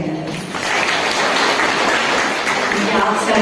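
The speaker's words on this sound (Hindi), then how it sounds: "अपने आप के लिए एक बार ताली बजाना।" Seated audience at a women's day gathering clapping for themselves, a burst of applause that swells within the first half-second and then holds as a dense, loud, even patter.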